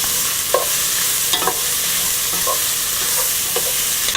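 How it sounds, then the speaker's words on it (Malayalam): Garlic and ginger sauté loudly in a hot pan for beef peralan, a steady close sizzle broken by repeated spatula scrapes and stirring strokes, with no voices. "വെളുത്തുള്ളി, ഇഞ്ചി എന്നിവയിട്ട് നന്നായിട്ട് വഴറ്റിയെടുക്കുക"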